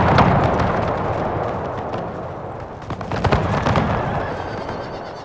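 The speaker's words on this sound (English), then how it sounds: "Canister now instead being fired" Canister cannon fire booms from artillery in the Napoleon: Total War Eras mod, a dense run of loud, overlapping blasts and crackling bursts that rises again midway, with battle noise filling the gaps.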